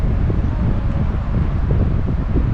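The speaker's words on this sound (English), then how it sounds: "Kingston, it's even windy. Look at the tree branches." Wind blows through tree branches at a campground, a constant loud rushing roar with low buffeting gusts that fills the whole moment.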